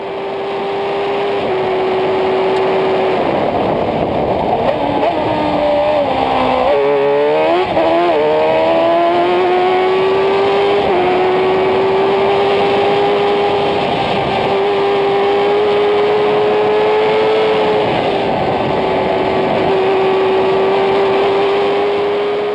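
A 2004 Star Mazda Championship race car at Sebring drones loudly and steadily at high revs, with a quick downshift and lift of the throttle midway before the engine pulls hard again, sustained and close throughout.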